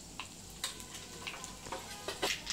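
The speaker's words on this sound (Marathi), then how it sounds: "हे काय फोडणी देते मिरचीची" Chillies and curry leaves tempering in hot oil for a green bean and potato bhaji, crackling with a steady sizzle broken by sharp pops and spits that grow livelier toward the end, close and without talk.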